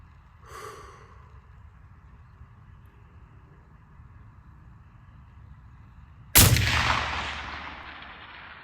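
Single rifle shot fired at a half-mile target through a thermal scope, one loud sharp crack with a decaying boom after a stretch of quiet breathing close to the shooter.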